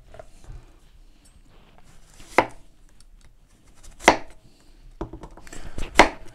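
A PAUDIN 20 cm chef's knife slicing food and striking a plastic cutting board; sparse, close, sharp cutting knocks, with louder thuds as the blade meets the board, separated by quiet gaps.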